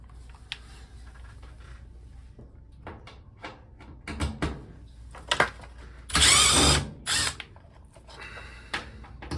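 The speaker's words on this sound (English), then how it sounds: "Now I'm going to remove the 2 screws." A power drill backs out two screws on a Whirlpool washer during water valve replacement, giving short whirring bursts and one longer run among clicks and handling knocks, close by and without talk.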